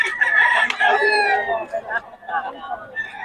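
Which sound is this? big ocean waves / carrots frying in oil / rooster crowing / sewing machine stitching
rooster crowing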